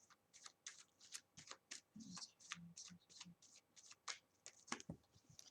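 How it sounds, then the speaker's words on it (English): Tarot cards shuffled by hand in quick, uneven bursts of crisp riffling and slapping. The stiff deck is handled closely and quietly, with brief pauses between the shuffles. "Your girl can't shuffle sometimes."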